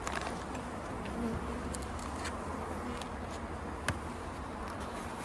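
Honey bees in an opened winter hive give a steady, dense buzz close by, broad and continuous, with a few soft taps and rustles over it.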